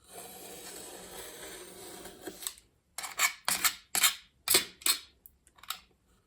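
A blade scrapes papers along a firmly held ruler while making a junk journal: about half a dozen short, sharp, raspy strokes, close and fairly quiet, follow a stretch of soft background hiss.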